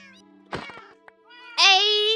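A Siamese cat in a video game meows twice, first with a short, quieter call and then with a loud, drawn-out meow after a brief rustle of game sounds.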